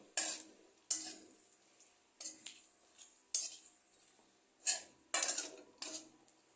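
Cumin, fennel and bay leaf being stirred in hot oil for a fish curry, a quiet low sizzle broken by about eight sharp metal spatula scrapes and clinks against the pan at irregular intervals.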